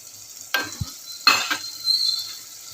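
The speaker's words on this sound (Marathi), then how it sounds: "आपण त्याच्यामध्ये कच्चे शेंगदाणे आहे ते टाकूया. भिजवलेले काळे वाटाणे आहेत ते पण टाकूया." Raw peanuts and soaked black peas tumble into a hot pan for khichdi, two sharp rattling pours followed by sizzling and stirring, close and clear with no talk.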